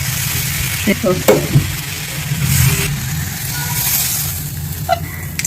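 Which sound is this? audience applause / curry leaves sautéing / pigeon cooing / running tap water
curry leaves sautéing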